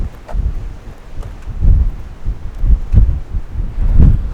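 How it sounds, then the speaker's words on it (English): Strong coastal wind on the Lost Coast buffeting a microphone outdoors, loud rumbling gusts that swell and thump in irregular bursts with no voices. "I'm just trying to get away from the wind right now because it's starting to get super windy on this side"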